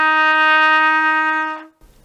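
Trumpet sounding a single long F, first valve down, played as a beginner warm-up note: a loud, steady, brassy tone held for over a second and a half before stopping abruptly.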